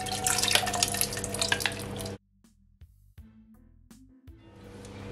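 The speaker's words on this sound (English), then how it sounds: "to my pot I'm gonna add at least 1 cup of water" Water is poured into a cooking pot while Jamaican rice and peas is being made. A loud, continuous splashing pour runs for about two seconds and stops abruptly, followed by faint drips and small clinks.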